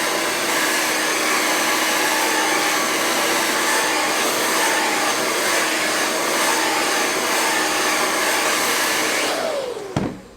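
A hair dryer blows steadily at close range while a man styles his medium-length hair, holding a loud, even whoosh for about ten seconds before it clicks off and its whine winds down.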